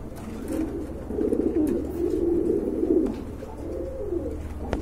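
Pigeons coo in low, soft, repeated rolling calls, fairly close, with a faint background hum and no talking.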